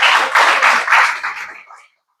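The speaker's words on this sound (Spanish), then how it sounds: "Den un aplauso a Cristo allí, por eso." A church congregation breaks into brief applause during a sermon, a close burst of clapping that swells in quick pulses and fades out after about two seconds.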